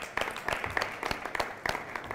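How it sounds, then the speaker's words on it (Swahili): A school audience applauding at a Kiswahili arts event at Upperhill Secondary School, soft scattered claps from a modest crowd heard at a distance. "Makofi sana kwao."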